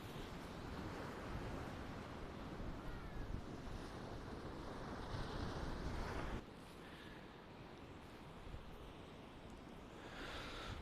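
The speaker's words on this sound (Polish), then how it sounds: "Ale fala" Atlantic waves break along the Portuguese coast near Lisbon, heard as a faint, continuous broadband wash mixed with wind buffeting the microphone.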